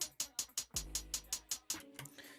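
Stacked phonk snare samples panned hard left and right hit in a quick, steady run of about a dozen sharp cracks, with a deep booming bass swelling underneath midway through.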